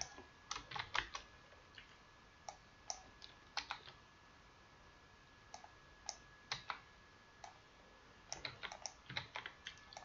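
Keys on a computer keyboard clack in short, irregular bursts of typing separated by pauses, quiet and close, with a faint steady background hiss.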